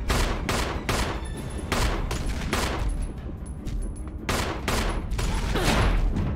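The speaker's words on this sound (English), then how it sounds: "Let me show the quick shooting." Rapid bursts of gunfire from the Resident Evil randomizer video game, loud repeated volleys of quick shots in close succession with brief gaps, heard alone without talk.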